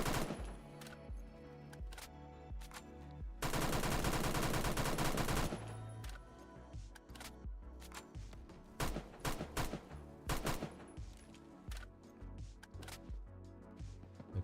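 Rapid automatic fire from an X95R rifle in the Roblox shooter Phantom Forces, loud bursts of sharp shots with a dense sustained volley in the middle and scattered single and short bursts around it.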